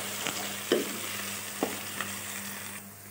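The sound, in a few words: ginger paste frying with onions in a pan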